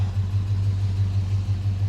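A restored Chevy Bel Air with a 327 V8 and five-speed manual runs at a steady idle, giving a continuous deep, even rumble that stays close and moderately loud throughout, with no voices.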